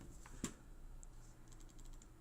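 Text being typed on a computer keyboard, a faint, quick patter of key clicks with one sharper tap near the start, quiet and close.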